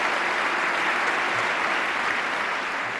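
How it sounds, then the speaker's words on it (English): A large audience claps steadily and loudly throughout at the State of the Union, a dense unbroken wash of applause with no pauses. "A lot of people standing and clapping."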